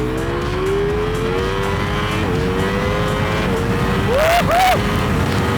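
A Ducati Panigale V4 sports motorcycle with a two-way quickshifter, its engine droning loudly and steadily, then dropping through gears with sharp throttle blips that rise and fall in pitch.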